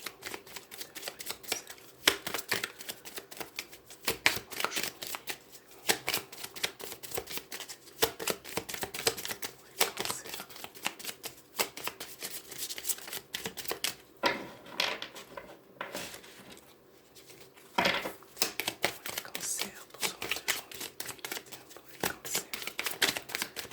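Tarot cards being shuffled and cut, with rapid papery riffles and flicks in irregular bursts, close and fairly quiet, with a brief lull in the middle and no speech.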